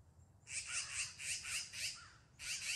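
A magpie gives a run of harsh, rasping squawks in a steady rhythm, about six calls in quick succession, a short pause, then another call, moderately near over a faint background.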